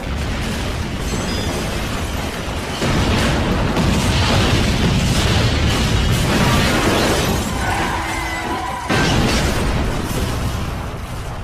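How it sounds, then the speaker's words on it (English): The Twin Towers collapse in a loud, continuous roaring rumble of crashing debris with deep booms and shattering texture, swelling and dropping in intensity over about eleven seconds, with no clear talking. "The towers are falling."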